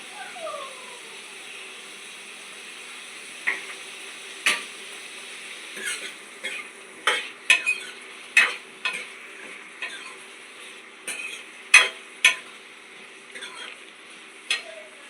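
Onions fry in a pan for a home-cooked matar paneer, with a steady soft sizzle broken by repeated sharp clicks and scrapes of a spoon against the pan, close up, with a faint voice at times.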